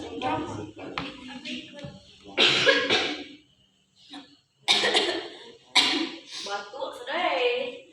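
Several sharp coughs burst out in separate clusters during a practice session on washing a body for burial, close and fairly loud, with people talking around them.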